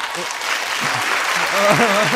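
Outdoor crowd clapping steadily at a Japanese rock music radio event, a dense wash of applause under overlapping talk from hosts nearby.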